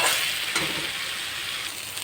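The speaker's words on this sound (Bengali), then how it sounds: "ঝোলের জন্য জল দিয়ে দিচ্ছি, আপনারা পরিমাণটা বুঝে দেবেন।" Fish masala for a rita fish curry sizzling loudly in a pan as water goes in for the gravy, a steady close hiss of frying throughout.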